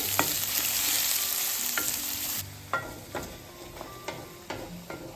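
Chopped onions frying in a pan for a pahadi gethi vegetable dish, with a loud steady sizzle that drops suddenly partway through, followed by scattered spatula clicks and stirring taps, close by, with no talking.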